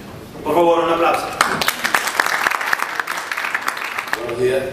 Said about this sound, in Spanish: Por favor, un aplauso para Gabriel San Miguel Esteves